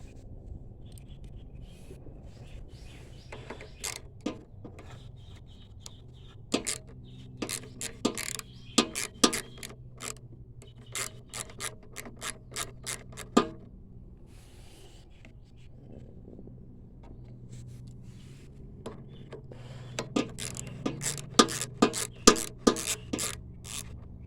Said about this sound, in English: we'll need our 1/4-inch socket for that